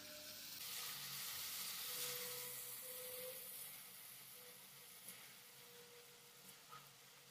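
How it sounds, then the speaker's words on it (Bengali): Palm fruit fritters (taler bora) frying in oil, with a soft continuous sizzle and faint bubbling, fairly quiet and easing slightly toward the end, with a few small clinks. "এরপর বাকি যে বড়াগুলো আছে সেগুলোকে একই রকমভাবে ভেজে নিচ্ছি"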